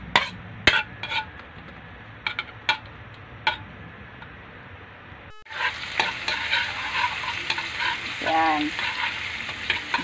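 Garlic sautéing in hot cooking oil for a chayote omelette, opening with a few sharp clinks of a utensil over a low hiss, then a loud, steady sizzle that swells once the garlic hits the pan and keeps crackling to the end.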